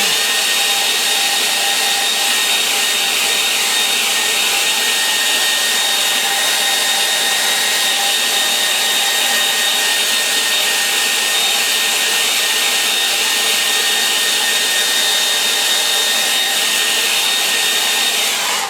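A hair dryer blows steadily and loudly on a wet watercolour snow-in-the-hills painting, a continuous even whoosh with no pauses for the whole stretch and no talking.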